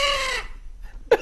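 Chicken giving a drawn-out squawking call that fades, then a short sharp cluck after a brief pause, heard close against a faint background.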